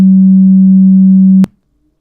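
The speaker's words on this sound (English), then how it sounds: "Let's try a sine wave." A pure, loud, steady sine-wave test tone plays from an audio sampler for about a second and a half, then cuts off abruptly and leaves silence.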